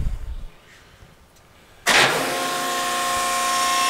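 A used Accurpress 175-ton, 14-foot CNC hydraulic press brake, model 717514, starts its hydraulics after a quiet stretch, jumping abruptly into a loud, steady hum with a whining tone that continues unbroken.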